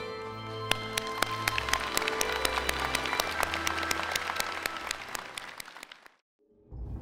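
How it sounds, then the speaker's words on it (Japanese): A large crowd at the National Defense Academy of Japan graduation ceremony applauds during the Prime Minister's address, a sustained, dense burst of clapping with sharp individual claps that fades out abruptly near the end. "私からも皆様と共に大きな拍手を持って送りたいと思います。"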